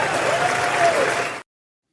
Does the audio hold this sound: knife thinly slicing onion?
no